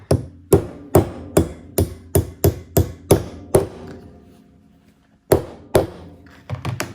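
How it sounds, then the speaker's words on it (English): A hammer strikes a rivet set on a piece of black pipe while riveting a leather tool pouch, a run of about a dozen sharp, close taps in steady rhythm, a pause, then a few more blows. "And then grab the hammer."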